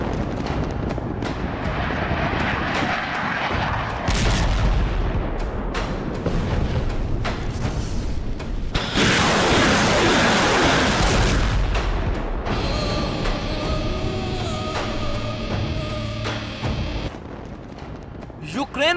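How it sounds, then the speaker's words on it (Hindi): Heavy Russian bombardment in Ukraine, with loud blasts, rumbling booms and sharp bursts of gunfire following one another through a long stretch, mixed with roaring noise and a voice talking over part of it. "यूक्रेन पर रूस की भीषण बमबारी।"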